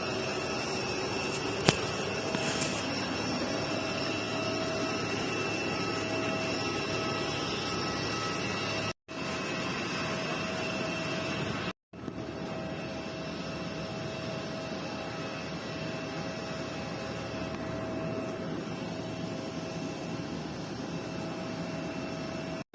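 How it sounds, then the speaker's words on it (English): Roaring jet engines of an Air India Airbus just after landing, a loud, steady broadband whine and rumble close by, with two brief dropouts, continuing unbroken with no voices. "Air India Airbus aircraft has made a good landing over here"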